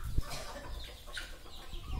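Guineafowl and bantam chickens squabble close by in a farmyard, with a steady run of clucks, squawks and scuffling noise that carries on throughout.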